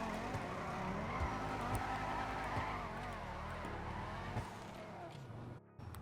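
A car drifting with the handbrake held and tapped in GTA 5 Online, heard as a continuous engine drone with tyre noise, steady and moderately loud for about five seconds before a brief drop near the end, with no talk.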